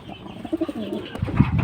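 Pigeons at a pigeon market selling Pakistani high-flyers, fancy and racer birds give a few soft, close, throaty coos in a short burst, followed by low murmuring rustle.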